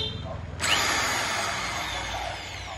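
A 550 W electric hammer drill with a 13 mm chuck and light hammer function switches on and runs steadily at close range, a loud continuous whine that holds for a couple of seconds.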